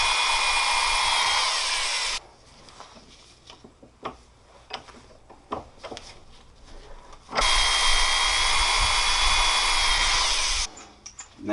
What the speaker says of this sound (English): start with a super small pilot hole, which will be about the same size as the punch